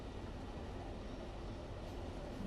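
A train rolls downhill gathering speed in the Train Sim World game, giving a steady, dense rumble of wheels and running gear that stays loud and even throughout with no voices.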